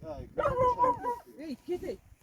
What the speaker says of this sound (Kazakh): Мына ит қараңыздар. Бізден иттер көп.